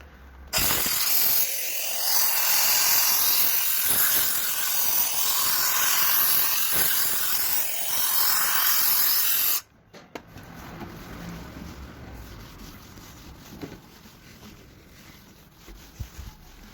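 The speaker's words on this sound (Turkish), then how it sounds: "sadece buharı tuttum ve kuruladım" A Sinbo steam cleaner blows a loud, steady hiss of steam onto window glass for several seconds, then cuts off abruptly, leaving quieter handling noises and faint clicks.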